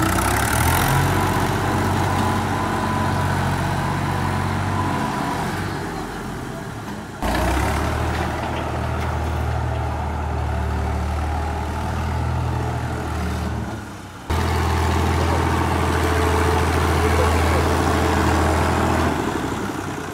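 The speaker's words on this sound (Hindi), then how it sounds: "वो वीडियो मैं ना आपको दिखाता हूँ अभी, वो आप देख लें कि रात को ट्रैक्टर लगा हुआ था यहाँ पे" A tractor engine runs in a field at night, a steady low diesel rumble and drone that holds throughout with a couple of abrupt shifts in level, as if the sound cuts and resumes.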